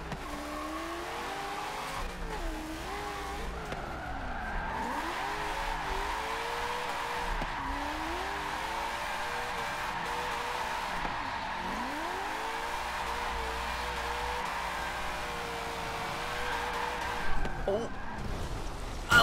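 A car drifts in Forza 7, its engine revving and swooping in pitch while the tires squeal and skid continuously, with a voice talking over the game sound.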